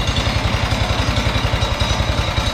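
An old Wisconsin engine runs in a fast, even rhythm, its low pulsing exhaust thumping steadily and loudly with a rough mechanical clatter over it.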